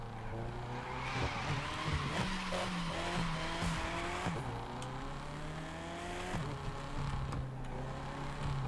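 A BMW M5 F90 revs hard off-road on a dewy surface, its engine droning loud and close while the tyres squeal and skid as they lose grip, with repeated surges in pitch.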